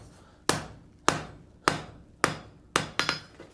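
A hammer hand-forging a roughly three-inch taper for a fleur-de-lis scroll rings out in loud, close, evenly spaced blows, about one every half second, with a quicker double strike at the end.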